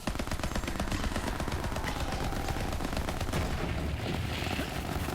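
Rapid automatic gunfire from weapons in the video game Borderlands 3, a dense continuous stream of shots and impacts at steady loudness throughout, mixed with game effects and no speech.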